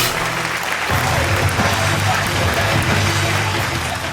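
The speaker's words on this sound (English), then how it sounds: "Give him a round of applause." Sustained audience applause for a speaker being introduced at a bodybuilding event, a dense steady wash of many hands clapping at once, loud and continuous throughout.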